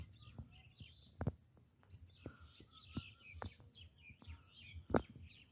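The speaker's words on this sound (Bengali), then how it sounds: "পাখিরা সব বাড়ি ফিরতেছে।" Birds flying home at dusk over a sandy chilli-drying ground give scattered, faint chirps and calls from a distance, with a soft hum underneath.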